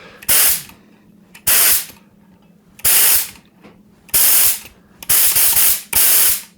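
A Tilswell Pinto paint sprayer fires six loud, hissing spray bursts, each roughly half a second to a second long, at fairly regular intervals, with a steady motor hum running between them and no talk.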